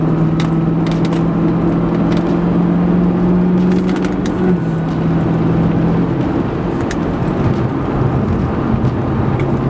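A BMW E90 M3 with aftermarket intake and exhaust and no X-pipe drones steadily while driving, a loud low engine and exhaust note shifting pitch slightly as it pulls, heard from inside the cabin with road rumble.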